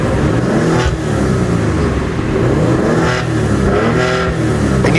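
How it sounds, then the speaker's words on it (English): A 2019 Maserati Ghibli S GranSport with turbocharged engine revs in normal mode, loud and close, rising and falling through several throttle blips with a whirring turbo character and no talking over it. "you can definitely like hear the turbo in normal mode"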